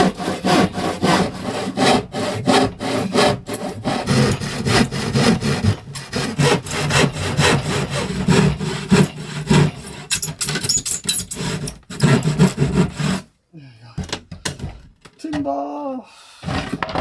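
Wood being cut with a handsaw for a hidden wardrobe inside a van, a long run of quick, rasping back-and-forth strokes close up, ending in a brief pause and a short voice.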